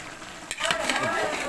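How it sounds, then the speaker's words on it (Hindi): Jungli pulao rice cooking in a pot, with a sudden clatter and stirring, then a steady sizzle and scraping close by, continuing without a break. "ये मैं चावल बना रहा हूं जी।"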